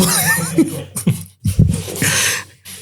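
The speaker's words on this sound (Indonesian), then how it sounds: "Boleh batuk di sini?" A few short, harsh coughs in quick bursts, close by, separated by brief pauses.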